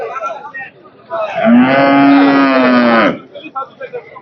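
A dairy cow at the Hazratpur cattle market in Keraniganj gives one long, loud, close moo lasting about a second and a half, with scattered market noise before and after.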